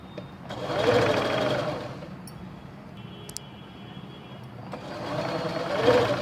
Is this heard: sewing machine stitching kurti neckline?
yes